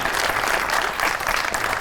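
A studio audience at a comedy talk show applauds for a guest, a short burst of dense, even clapping that fills the whole moment.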